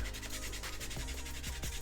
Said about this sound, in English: by taking some 180 grit sanding block